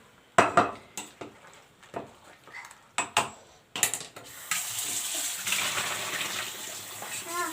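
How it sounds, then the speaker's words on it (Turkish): Cooked pasta drained in a home kitchen, with several sharp clatters of a pot and strainer followed by a steady rush of water pouring into the sink. "Makarnamı süzeyim."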